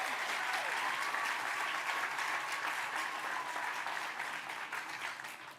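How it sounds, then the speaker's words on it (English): A crowd at a memorial tribute event applauds warmly and steadily for several seconds, a dense continuous wash of clapping that fades slightly near the end, with a faint whistle-like tone rising over it. "Give her a warm applause."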